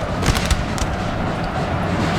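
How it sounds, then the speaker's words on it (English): Cannon fire from a Napoleonic-era battle in Napoleon: Total War, Austrian campaign: a few loud booming blasts clustered early, under a continuous rumbling din of battle noise. "We can hear our own cannons coming in now, which is excellent."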